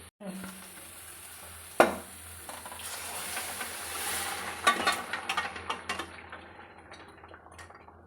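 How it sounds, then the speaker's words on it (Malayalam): Cooked chicken goes into a sizzling pan and is stirred, a single sharp clatter followed by a growing sizzle and irregular metallic scrapes and knocks, fairly close and moderately loud. "നമുക്കിതിലേക്ക് വേവിച്ച് വെച്ചിരിക്കുന്ന ചിക്കൻ ചേർത്ത് കൊടുക്കാം"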